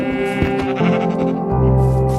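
Sheep bleating in the Minecraft video game, a few short wavering bleats over a steady game background, fairly close and loud, with no talking.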